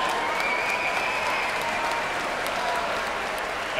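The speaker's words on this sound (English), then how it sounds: "let's have a big round of applause for both of the fighters in this cage" Arena crowd at a professional mixed martial arts event applauding both fighters in the cage, a dense, loud, continuous roar of clapping with faint cheers throughout.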